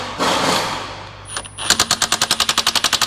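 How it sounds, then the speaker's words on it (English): A half-inch impact gun hammers at a lug nut on a 2002 Acura NSX, starting with a brief burst and then settling into a rapid, steady rattling of about fourteen loud, evenly spaced impacts close by. No one speaks. "He always say my gun is not strong enough to take off a lug nut."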